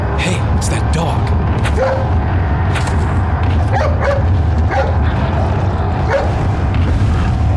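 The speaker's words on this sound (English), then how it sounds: "Hey, it's that dog." A dog in Resident Evil 4 gives several short barks and yips amid loud, dense combat noise with booms, all mixed tightly together.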